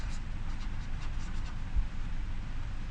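Chalk or a marker scratches steadily across a board during a chemistry lesson on atomic structure, giving a continuous, close scraping texture over a low background rumble, with no talking.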